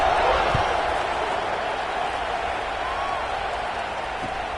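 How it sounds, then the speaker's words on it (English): A stadium crowd in the Madden football video game buzzes after a touchdown, a steady, broad roar with scattered clapping that fades slightly, and commentary talking over it. "this crowd is buzzing after that last score"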